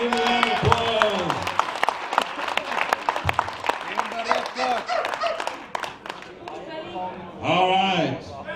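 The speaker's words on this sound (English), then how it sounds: "Give him a round of applause" Scattered clapping breaks out among the crowd at a 2014 wildlife fundraiser auction after a lot is sold, uneven and moderately close, with a voice talking over much of it.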